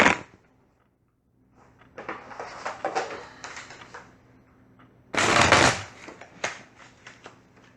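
Initiative cards are shuffled at a tabletop Fallout game session, with two bursts of papery riffling and scraping, a longer one followed by a shorter, louder one, fairly close and with no talk over them.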